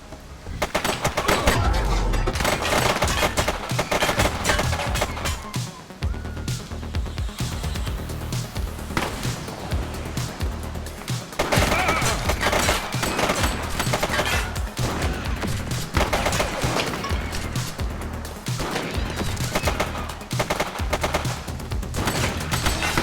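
Sustained automatic gunfire in The Precinct, a police shootout game: dense bursts of rapid shots rattle loudly and continuously, near and overlapping, with only brief dips between volleys.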